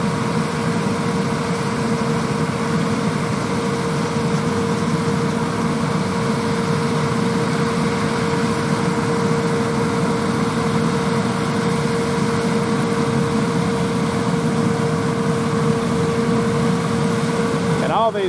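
Steady, droning engine rumble with a constant tonal hum from John Deere 8R and 8000R tractors harvesting peanuts, running continuously throughout like heavy machinery idling nearby; talk is faintly mixed in.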